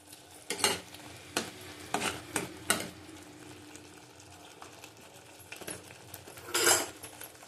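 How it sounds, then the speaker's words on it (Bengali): Spiny gourd stir-fried with panch phoron gives a soft sizzle under a handful of sharp, scattered spatula scrapes and clinks against the pan, close and fairly quiet, with no talking. "ভালো করে কষিয়ে নেবো"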